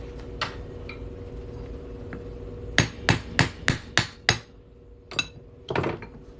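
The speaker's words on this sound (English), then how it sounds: "I like to use a 1/2 inch punch. So we're just going to pop that in there and hammer it on through." A steel 1/2 inch punch is hammered through a silver quarter: a handful of scattered taps, then a quick run of five or six sharp, ringing metallic strikes at close range, followed by a few more blows.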